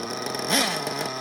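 Nitro RC truggy engine idling as it warms up, a steady buzzing hum close by with a brief rise in pitch and loudness midway before settling back.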